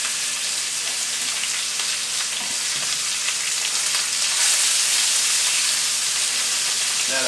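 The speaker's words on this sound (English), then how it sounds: "We're gonna drop these in, probably about a minute aside or so, just to get a nice good sear on them." Burger patties for sous vide Juicy Lucy burgers sear in a smoking hot pan, giving a steady, loud, close sizzle that holds for several seconds and swells slightly toward the end, with no talking.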